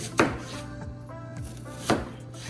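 A knife chops through an onion on a cutting board, with a few sharp, separate knocks spread out over a couple of seconds, fairly quiet and close by.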